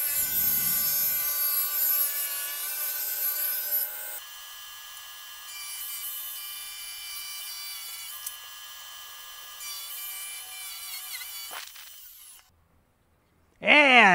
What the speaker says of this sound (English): Now, we make the kerf cuts.